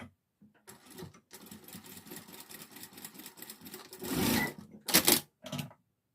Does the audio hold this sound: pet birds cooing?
no